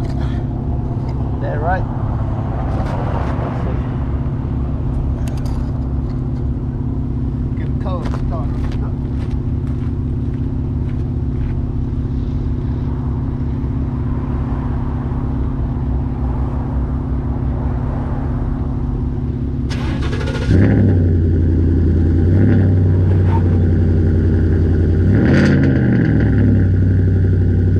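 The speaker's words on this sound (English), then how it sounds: "See if we can get a cold start." A big lifted Ford FTX truck's engine rumbles at a low idle, then roars louder near the end as it revs. A voice speaks briefly.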